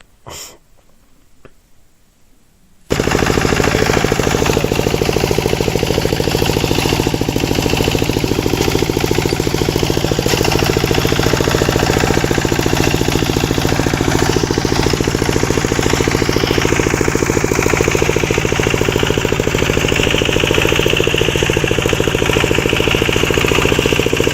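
A heavy walk-behind tractor fitted with a standard plough and weights on its front roars into life after a short quiet start, then runs loud, close and steady throughout while ploughing.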